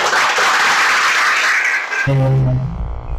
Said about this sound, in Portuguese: Dá uma salva de palmas para você.